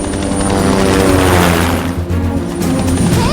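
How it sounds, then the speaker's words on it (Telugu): A loud, close helicopter landing on a road, with a steady rotor thrum and engine whine that swells and shifts as it descends nearby. "రోడ్డు మీద హెలికాప్టర్ దిగుతోంది."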